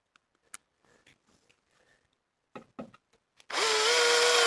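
A drill drives crosshead screws into wooden cladding on a garden shed; after a few light clicks and handling knocks, the drill whines up loud and close and keeps running steadily.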